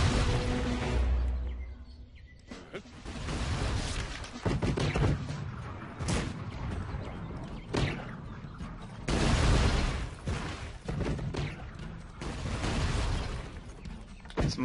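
Cannon and musket gunfire from a battle in the Cossacks 3 strategy game, with dense, loud volleys of overlapping shots and heavier booms recurring across the whole stretch, and no talking.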